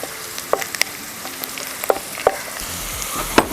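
Garlic sautéing in a pan for a pickle, a low continuous sizzle broken by several sharp clinks and scrapes of a spoon stirring, close and with no talk.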